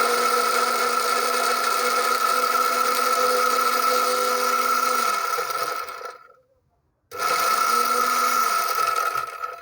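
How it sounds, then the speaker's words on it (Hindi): A repaired Moulinex blender runs with a steady high motor whine, spins down and stops briefly, then starts again at full speed, loud and close with no voices. "अब मैं इसको मशीन के ऊपर लगा के आपको अभी इसको चला के चेक करवाता हूँ।"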